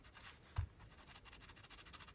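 Pencil shading across a paper page for a sewing-themed junk journal, a soft close scratchy rubbing with one sharper tap near the start, steady and quiet with no voices.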